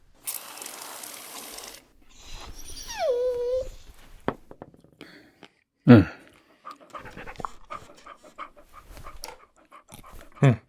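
A dog panting in rapid, breathy bursts, heard close among whimpering tones, a few sharp knocks and other background sounds.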